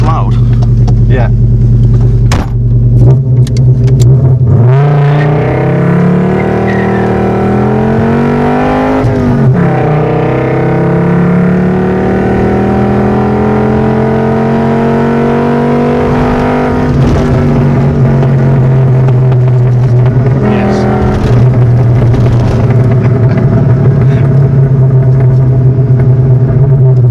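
Volkswagen Passat B2 driving on a 60 mph road, a steady loud engine drone with rising revs that dip at gear shifts, heard from inside the cabin under ongoing conversation.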